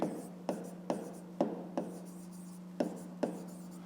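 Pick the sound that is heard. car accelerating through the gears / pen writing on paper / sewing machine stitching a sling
pen writing on paper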